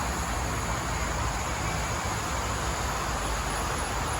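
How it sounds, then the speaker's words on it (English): Steady broadband roar of expressway traffic near a nature walk on Chestnut Avenue, Singapore, a constant dense wash with no distinct passing vehicles, loud and unbroken throughout. "Those other sounds you hear are the expressway nearby."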